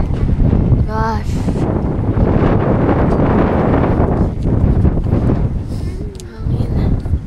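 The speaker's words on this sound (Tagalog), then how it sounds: "Hangin." Strong wind buffets and roars against the microphone in steady gusts, with faint voices now and then in the rush.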